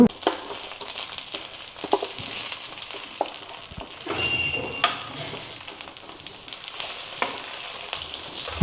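Mutton frying in oil over a gas flame in a rustic village kitchen, a steady hiss with scattered sharp taps and knocks of utensils against the pan, close and moderately loud with no speech.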